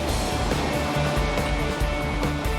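Ocean surf rolling and breaking at Bondi Beach, a steady loud wash of water with low rumbling swells, continuous throughout with no voices.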